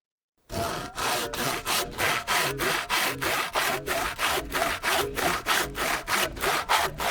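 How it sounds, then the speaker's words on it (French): Hand saw cutting through a wooden rafter from a salvaged pallet, steady rhythmic back-and-forth strokes, about two per second, loud and close, with no talking. "Alors on va couper le chevron en 4 parties égales."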